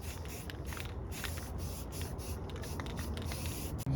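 Spray primer hisses steadily onto a rusty work cart after sandblasting, one continuous close aerosol stream with faint rhythmic pulses over about four seconds.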